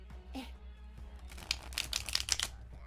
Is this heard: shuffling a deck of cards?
yes